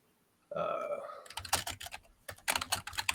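Keys clack rapidly on a computer keyboard in bursts of typing, close and crisp, with a brief vocal sound just before the keystrokes start.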